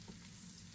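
Onion frying in very hot butter with garlic, a faint, continuous sizzle and crackle with light stirring, brief and steady.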